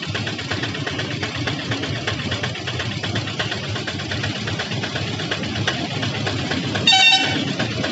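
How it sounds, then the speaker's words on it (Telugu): A DEMU diesel-electric multiple unit train pulling up to the platform at Karimnagar station, a steady engine drone with rail rumble throughout, then a brief horn-like tone near the end. "ప్లాట్ఫామ్ దగ్గరికి వచ్చేసింది ప్రజెంట్ ట్రైన్."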